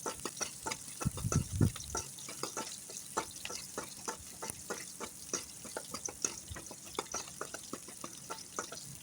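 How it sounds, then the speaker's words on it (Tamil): Small onions sautéing in oil on the stove for a jackfruit-seed and brinjal curry, a soft continuous sizzle broken by regular light spoon scrapes and taps against the pan, with a brief louder rustle near the start and no talk. "சின்ன வெங்காயத்தை நல்லா வதக்கிக்கலாம் கோல்டன் ப்ரௌன் கலர் வர அளவுக்கு வதக்கிக்கலாம்"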